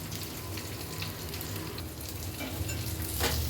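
Butter beans sundal with chili powder is stirred in a hot pan, giving a steady close sizzle with faint scraping and no voices.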